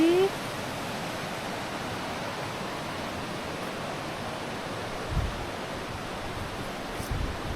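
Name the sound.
river stream flowing near Dudhsagar waterfall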